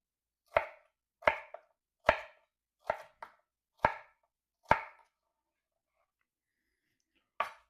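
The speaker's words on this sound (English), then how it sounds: "Got a red pepper. Dicing the lengths there." A knife dices a red pepper on a cutting board, six crisp chops at a slow even rhythm, close and clear, followed by a pause and one final chop.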